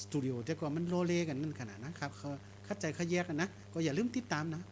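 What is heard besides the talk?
No everyday noise stands out behind the speech.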